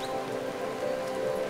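Steady rain falls on the jungle, a constant dense patter of drops on surfaces, close and even, with no speech.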